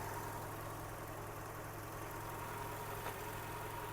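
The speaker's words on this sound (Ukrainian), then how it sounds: "Зараз двигун працює на газу." A Skoda Octavia A5 1.6 petrol/LPG car engine idles on LPG with a steady, low hum and faint rumble, constant and unchanging, with no voices present.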